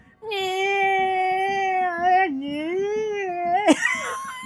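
A person imitates a cat's loud, drawn-out meow in a long wavering wail that dips and rises, ending in a brief squeal and breathy trailing noise.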